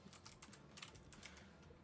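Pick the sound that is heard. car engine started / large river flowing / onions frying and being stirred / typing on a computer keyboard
typing on a computer keyboard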